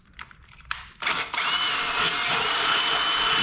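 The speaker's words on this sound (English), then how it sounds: "so it looks like we have a good clean drill all the way through" A power drill bores through the metal wall of an electric brew kettle: a few short bursts, then a loud, steady high-pitched whine with grinding close up, and no talking.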